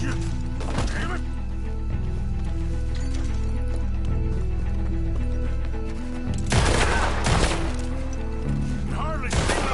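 Gunfire in the Western video game Red Dead Redemption 2, bursts of close shots and thuds over a constant droning game score, with a loud flurry of rapid shots near the end.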